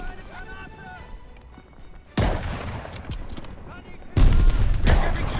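Gunfire raining down from above in the video game Call of Duty Vanguard, with loud bursts of shots erupting in two waves over steady battle noise and voices talking throughout.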